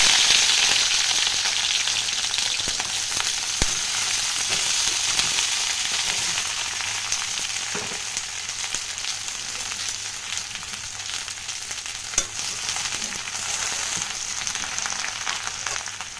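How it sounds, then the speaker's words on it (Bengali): Okra frying in hot mustard oil in a pan, a steady, loud, close sizzle with crackling that runs the whole time without any talk. "তো ঢেঁড়সটা আমি ভেজে নেব"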